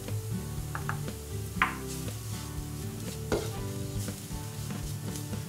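Flour and paprika toasting in a pan over moderate heat for a vegan salsa brava, a soft steady sizzle with occasional stirring scrapes and light clinks close by.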